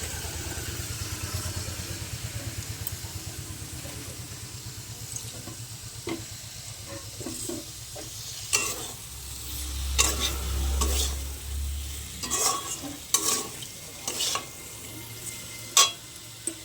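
Potatoes and tomatoes sauté in a pan, a soft steady sizzle with clanking stirring strokes that grow louder and more frequent in the second half, with a low engine-like hum underneath.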